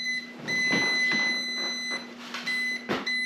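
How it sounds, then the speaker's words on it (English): Steady electronic warning beep from a car with a nearly dead battery after a failed start attempt, a continuous high tone with rustling and handling noise around it, close and moderately loud. "Uh-oh, we got a beeper. Must be too dead."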